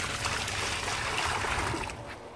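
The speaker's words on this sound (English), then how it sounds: "Time to pour our water in." Water poured steadily into a container for a pet Goliath bullfrog tadpole, a close, continuous splashing trickle that eases off near the end.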